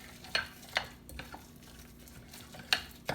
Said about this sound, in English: And you simply just mix this up.